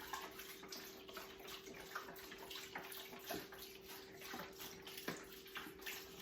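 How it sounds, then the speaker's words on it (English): Broth is poured steadily into a soup pot over lentils and vegetables, a continuous close watery splash and gurgle with no voices. "now I'm going to add the broth. And I'm going to add it where it's going to cover all the vegetables."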